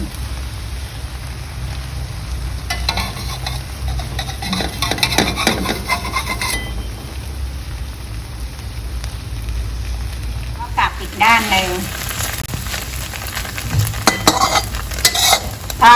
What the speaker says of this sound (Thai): ให้ไข่เขากระจายเป็นแผ่นบาง ๆเนี่ยค่ะรอให้ไข่สุกเดี๋ยวเราจะกลับอีกด้านหนึ่ง